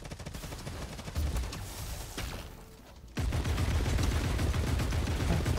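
Gunfire in the shooter game Hawked: dense, loud, rapid bursts of automatic fire, easing briefly near the middle, then resuming as a sustained volley.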